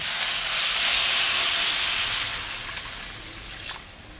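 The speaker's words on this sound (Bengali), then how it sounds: "এখন আমি জল দিয়ে দিই" Water poured into a hot pan of fried spices (coriander, dried and green chilli) for a fish curry bursts into a loud, steady hiss that slowly fades over a few seconds.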